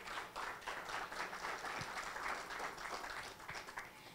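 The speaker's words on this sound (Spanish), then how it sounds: "Para ustedes un aplauso también, por favor." A seated audience at a health talk applauds: a faint, distant, sustained patter of many hands clapping that holds steady for several seconds before thinning slightly near the end.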